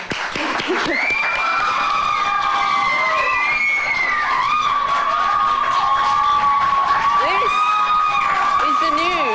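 A television studio audience claps and cheers loudly for guests who do an extreme sport. Several voices whoop and shout in sustained high pitches over steady applause throughout.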